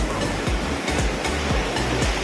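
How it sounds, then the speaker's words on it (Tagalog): Powerful ocean waves on a beach in Pangasinan roar steadily, with a continuous broadband wash and several low surging thumps as the surf breaks nearby, loud and without talk. "Nakakatakot po yung alon."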